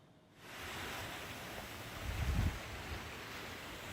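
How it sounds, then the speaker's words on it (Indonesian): High waves driven by strong wind batter a coastal settlement in Situbondo, East Java: a roaring wash of surf and wind that swells in after a quiet start and surges briefly louder midway, steady and broadband. "gelombang tinggi disertai angin kencang menerjang permukiman di pesisir di Situbondo, Jawa Timur."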